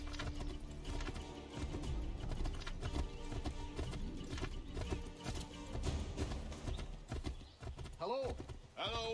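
Rhythmic hoof clip-clops from a horse at a steady pace in the video game Assassin's Creed III, with music and a brief whinny near the end.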